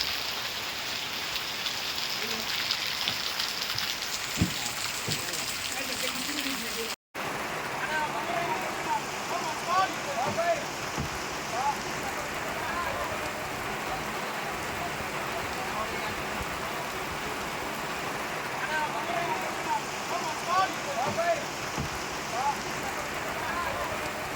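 Unseasonal rain falls steadily over an outdoor kite market in Vadodara, a continuous close hiss of drops on surfaces and stalls running throughout, with a brief cut partway through and voices talking beneath it.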